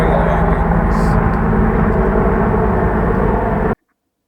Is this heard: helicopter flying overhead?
yes